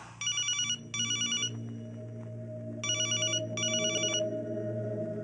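A telephone rings indoors during a Telugu film comedy scene, two quick double rings, a pause, then two more, clear and moderately loud over a low room hum.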